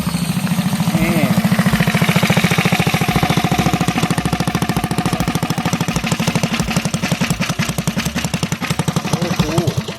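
The small engine of a mini bike with a new throttle and a billet aluminum flywheel runs steadily and loudly up close, with a rapid, rattling, pulsing beat throughout.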